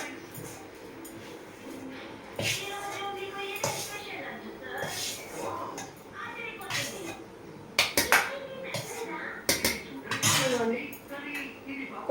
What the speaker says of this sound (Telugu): గిన్నెలోకి అయితే ఊడ్చేసుకుంటున్నానండి